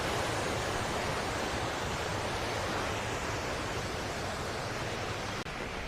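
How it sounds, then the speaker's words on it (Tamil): Lake water overflowing down a spillway at Kannankurichi new lake in Salem, near the Yercaud foothills, makes a loud, steady broadband rush that holds without a break and sounds close. "சவுண்டு பார்த்தீங்களா? தண்ணி சவுண்டு எப்படி?"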